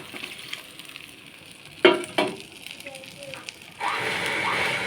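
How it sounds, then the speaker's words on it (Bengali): A couple of metal clanks, then a sudden loud, steady hiss as water is poured into a hot sizzling pan of egg ghugni, close up. "এবার জলটুকু দিয়ে দেবো।"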